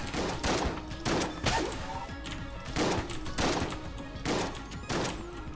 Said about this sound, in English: Little fun gunplay there